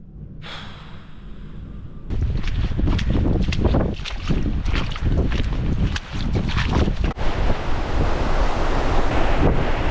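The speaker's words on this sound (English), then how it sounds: "the wind is still not abating" Strong, gusty wind buffets the microphone in the Scottish mountains, a loud continuous roar that surges after a quieter opening and stays heavy throughout.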